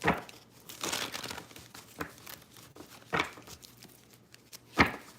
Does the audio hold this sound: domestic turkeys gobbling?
no